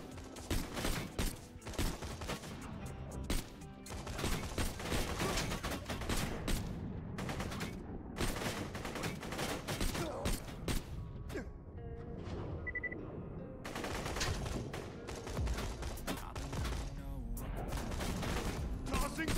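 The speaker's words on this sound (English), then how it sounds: "Missiles warming up. Preparing missile barrage." Missile barrage firing in the video game Borderlands 2, a dense, sustained volley of sharp blasts and rapid gunfire-like bursts with brief lulls, loud and nearly continuous throughout, with a voice speaking.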